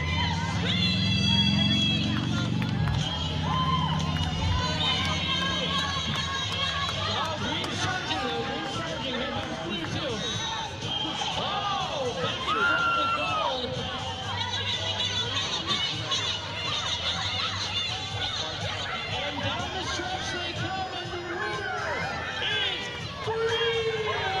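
A crowd at a baseball stadium cheers and chatters steadily through a between-innings race on the scoreboard, a dense continuous roar with shouts and children's voices rising over it. An announcer's voice carries over the crowd noise.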